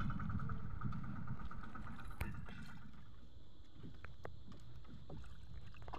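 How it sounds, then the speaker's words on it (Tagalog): Someone paddles a small engineless wooden fishing boat out at sea, with soft splashing strokes and water trickling along the hull, plus a sharp knock partway through, all fairly close and without talk. "Sagwa-sagwa na tayo guys. Kasi ating bangka, walang makina."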